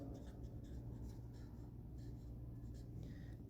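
A pen writes numbers on a board during a math lesson, giving faint scratchy strokes in short bursts over a steady low room hum, with no talking.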